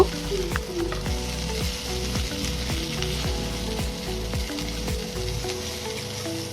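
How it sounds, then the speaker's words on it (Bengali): Moringa drumsticks and potato pieces fry in a pan, giving a steady, close sizzle throughout, broken by regular scraping knocks as they are stirred. "সজনে ডাঁটার সাথে আলু মিশিয়ে নিয়ে কিছুক্ষণ ভেজে নেব।"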